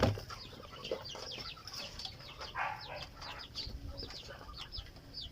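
Pet ducks being fed rice bran on a small farm, with busy clucking-like calls and wing flapping close by, dense and continuous with no speech.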